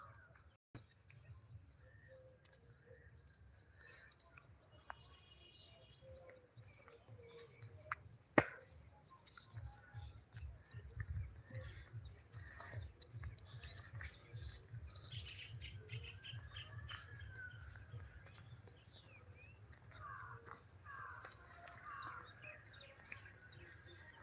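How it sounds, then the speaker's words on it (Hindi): Birds chirp and call in village farm fields on a morning, scattered bright calls spread through the scene over a steady low rhythmic rustling and background bustle, with one sharp knock near the middle. "चिड़िया की आवाज़, पक्षियों की आवाज़"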